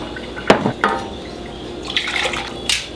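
Liquid poured into a cauldron of beef curry in a kitchen, a splashing pour with a couple of brief bursts and trickles, fairly close and alone.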